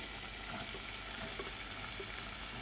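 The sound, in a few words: chopped onions frying in sunflower oil in a pan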